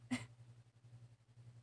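A single short, sharp sneeze from a VTuber streamer comes right at the start, close and fairly quiet, then fades into a low, steady background hum.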